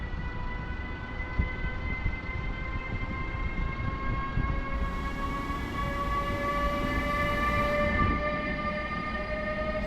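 The Tatry Express InterCity train, hauled by an EU200 electric locomotive, pulls out of Warsaw East station for Zakopane: a continuous heavy rolling rumble with a steady rising electric whine, loud throughout and without speech.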